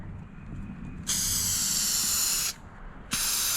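A Rust-Oleum spray paint can set to a fine fog pattern releases two close, steady hissing bursts, the first about a second and a half long and the second starting just after a brief pause.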